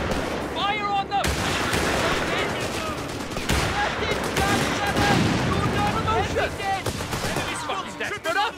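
Rapid gunfire from the World War II strategy game Company of Heroes 3 crackles through a continuous battle din, with sharp bursts and machine-gun volleys layered over shouting soldier voices and steady combat noise.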